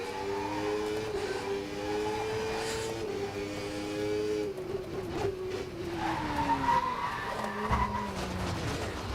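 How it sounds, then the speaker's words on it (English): Tyres squeal loudly and continuously under a race car's engine drone in the Assetto Corsa Competizione racing sim, the pitch sliding up and down as the car skids through corners. "I've never heard the tyres this loud before."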